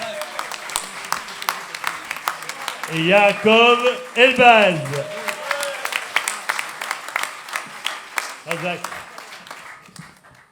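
An audience at a music concert applauds in a sustained wash of clapping behind a voice addressing the crowd over a microphone, with brief louder cheering-like bursts partway through.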